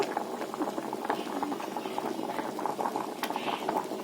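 A pot of drumstick sambar bubbles and gurgles steadily at a simmer, close up, with a faint murmur of a voice in the background.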